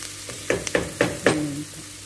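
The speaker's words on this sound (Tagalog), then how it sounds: "Hintayin po natin na mag-brown konti yung yung sibuyas guys ha." Onions frying for creamy chicken crackle steadily in a pan while a spoon stirs them in four or five quick scraping strokes, near and clear, with nobody speaking.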